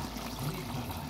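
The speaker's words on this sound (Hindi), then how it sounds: "तो अब हम इसमें पानी ऐड करेंगे" Water is poured into a pot of chicken and apple gourd curry, a soft, steady splashing stream at low volume with no voices over it.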